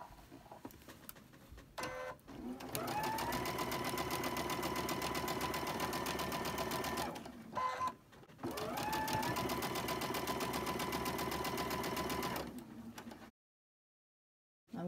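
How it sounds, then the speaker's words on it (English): A sewing machine chain stitches quilt blocks in two long, fast, steady runs of close mechanical whirring, separated by a short pause, then stopping into silence. "I'm going to chain stitch the two, and then I'll pin the other two and chain stitch them"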